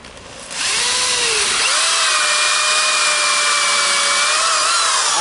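An auger bit in a power drill bores into a block of wood for a bluebird house, a loud steady grinding whine that starts abruptly and holds for several seconds, with a rising tonal squeal near the end.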